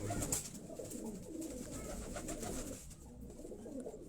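High flyer pigeons, known as Lahori pigeons, coo softly in a loft in Quetta, with repeated low throaty calls that overlap against a faint background hum.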